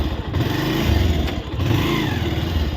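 A 220 motorcycle revving hard while climbing an off-road jungle trail, a close, loud engine drone that surges and dips in pitch over a few seconds.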